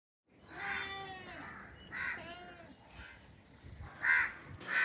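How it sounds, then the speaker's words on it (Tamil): Several crows caw in short separated bursts at close to moderate distance, with quiet pauses in between. "ஃபேன் சத்தம், காக்கா குருவி சத்தம் மட்டும்தான் கேட்டுட்டு இருந்துச்சு"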